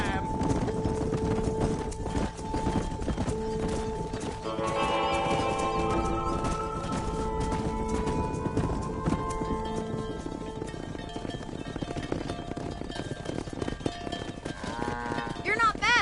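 A large cattle herd driven alongside horses in the Red Dead Redemption video game, with lowing cattle, clip-clopping hooves and an occasional whinny over a constant ranch ambience and music-like tones, busy and continuous.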